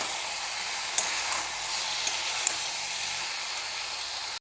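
Jackfruit curry frying in a pan with cumin and black pepper, a steady, close hiss of sizzling oil throughout, with a few small clicks and pops.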